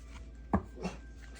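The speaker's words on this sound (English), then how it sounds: "That's my dog eating something she shouldn't be eating." A dog chomps on something it has picked up indoors, giving one sharp crunching bite and then a softer second chew, close and brief against quiet room tone.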